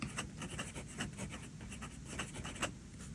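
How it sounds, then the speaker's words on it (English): An Esterbrook Estie King of the Night fountain pen nib scratches steadily across paper in a quiet room, a close, soft, rhythmic scratching of quick strokes. "The nib is very smooth with excellent feedback. You can hear that feedback."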